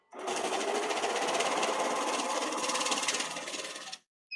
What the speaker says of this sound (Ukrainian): ми беремо купюру підозрілу, вкладаємо її всередину пачки, завантажуємо в лічильник